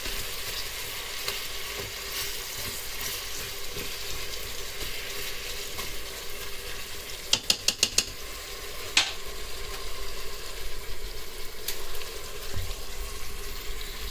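Apples for a tarte Tatin brown in a Cookeo Extra Crisp multicooker with a steady, even sizzle, broken by a brief cluster of light clicks partway through.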